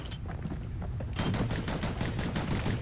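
Rapid bursts of slinger pistol gunfire in the video game Bastion, a dense, loud barrage of shots that grows heavier after the first second and continues without pause.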